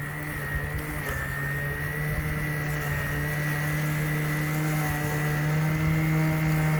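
A Greenworks 60V 25-inch cordless lawn mower cuts thick grass on turbo with a steady, unbroken electric whir and hum that stays close and even throughout.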